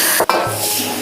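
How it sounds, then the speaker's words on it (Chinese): Pork stir-fried with doubanjiang bean paste in a hot oiled wok gives a steady close sizzle, with a brief metallic scrape of a spatula near the start and a continuous frying hiss after it. "现在重新起锅烧油，油热，把肉倒进去， 加豆瓣酱，给它炒出红油"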